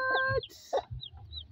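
Kanga guinea fowl and chicks on a poultry farm in Nairobi, giving soft clucks, short chirps and a thin high call or two in quick scattered bursts, close by and fairly quiet.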